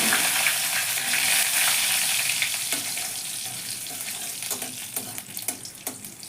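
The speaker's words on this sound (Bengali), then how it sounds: "ফোড়নটা একটু ভাজা হয়ে গেলে এবার দেব আমি" Whole cumin, dried red chillies and bay leaves frying in hot oil for a katla fish curry, a loud hissing sizzle that settles slightly, with a few stirring taps toward the end.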